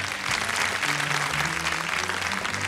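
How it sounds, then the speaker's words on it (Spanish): Dense, loud applause from a crowd at a tribute event, many hands clapping together in a continuous wash with a low murmur of voices underneath. "Un aplauso entonces."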